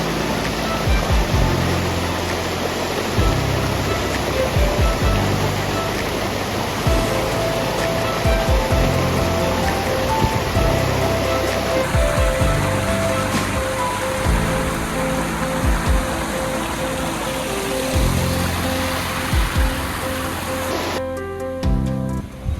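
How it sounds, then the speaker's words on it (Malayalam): Water pours through a rock crevice at a waterfall near the Valli hilltop outside Thiruvananthapuram, a loud, close, unbroken roar of falling water with faint thumps and gusty handling noise and no speech. "ഇതിന് മേളിലുള്ള ഒരു പാറയുടെ ഇടുക്കിലൊരു വെള്ളച്ചാട്ടം ഉണ്ട് കേട്ടോ"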